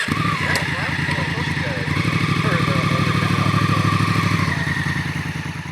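A Honda Africa Twin adventure motorcycle engine rumbles with a steady, throbbing idle, loud and close, running continuously throughout.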